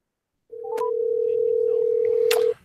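A steady telephone dial tone sounds close up, broken by a couple of brief clicks, then cuts off abruptly.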